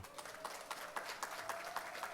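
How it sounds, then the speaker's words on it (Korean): A crowd applauding at an outdoor political talk concert in a city park, sustained clapping heard from a distance at fairly low level with a faint tone underneath. "박수 한번 쳐주십시오."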